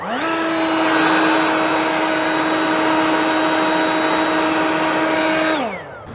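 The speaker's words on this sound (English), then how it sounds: "It's a little bit louder than I expected it to be for Whisper Series, but if you compare it to other blowers in this class, it is way quieter." A Ryobi Whisper Series battery-powered leaf blower runs steadily at close range, a loud constant whine with a strong tonal hum, then winds down quickly at the end.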